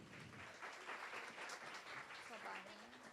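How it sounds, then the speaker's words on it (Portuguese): A symposium audience applauds steadily for a few seconds, dense clapping filling the room, with a voice briefly audible beneath it. "Palmas para as meninas."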